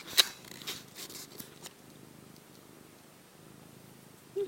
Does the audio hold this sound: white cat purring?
yes